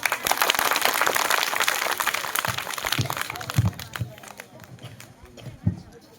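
School farewell ceremony audience at St. Xavier's clapping loudly in a dense burst that gradually thins out, with scattered voices and a few heavier thumps as the applause fades.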